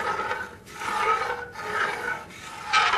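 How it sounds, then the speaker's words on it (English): A spoon scrapes the bottom of a gumbo pot to loosen the browned bits, giving three rasping strokes in a steady rhythm, close and moderately loud, with no talk. "We want to scrape the gratin off the bottom."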